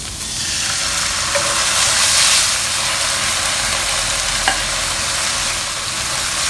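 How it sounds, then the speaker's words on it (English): Steady sizzling of pork belly frying in marinating sauce in a pan, a continuous bright hiss with a faint low hum beneath, no talking. "after a while frying in the pan, we'll add in the marinating sauce"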